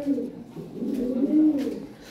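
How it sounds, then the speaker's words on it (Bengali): A pair of high-quality European Lahori pigeons gives low, rolling coos up close, a continuous warbling call with no talk. "হাই কোয়ালিটি কবুতর গ্রুপ"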